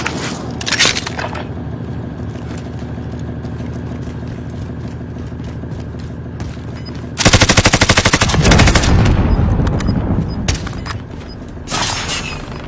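Call of Duty Warzone precision airstrike and gunfire: steady rattling fire gives way midway to a loud, dense burst of rapid shots and blasts, then trails off before a final short volley.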